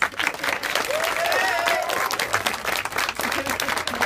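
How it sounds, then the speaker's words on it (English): A crowd claps steadily at the opening of a gymnastics academy, close and fairly loud, with voices and cheers mixed into the applause. "So I'd like you to clap them, please."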